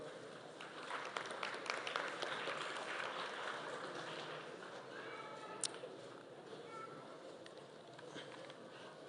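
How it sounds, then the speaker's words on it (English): Applause for diploma graduates at a Kenya Institute of Development Studies ceremony, a soft, dense patter of many hands heard from a distance and holding steady throughout. "Let's applaud them."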